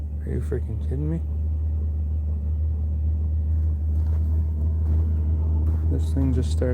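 Diesel heater running in a truck after the engine is shut off, a steady low rumbling drone close by throughout, with someone talking briefly at the start and end.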